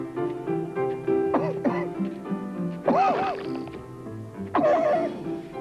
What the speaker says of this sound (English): A powerful cough calls for a powerful medicine.